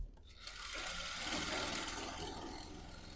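A sewing machine running steadily in a tailoring class, its continuous mechanical whir and rapid stitching clatter filling the room without pause.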